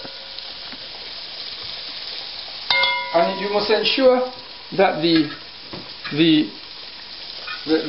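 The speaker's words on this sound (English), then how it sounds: "the chicken will be cooking and frying at the same time" Steady sizzle of chicken frying in hot oil runs throughout, with a person talking over it during the second half.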